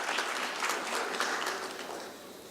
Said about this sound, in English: And I think that calls for an applause, because that's the theme of the day.